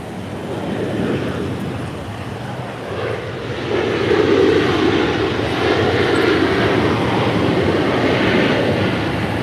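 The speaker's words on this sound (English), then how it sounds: "That is Delta Airlines Flight 2631 coming in from Kansas City on a" A Delta Air Lines Boeing 737-900ER lands at LAX, its engine roar swelling noticeably partway through and holding loud and steady, mixed with wind noise.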